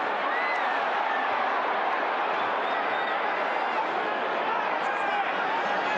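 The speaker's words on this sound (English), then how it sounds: "listen to the crowd now, Barry" A large boxing arena crowd at Tyson versus Holmes sends up a steady, loud roar of murmuring and cheering voices, an unbroken wash of noise throughout.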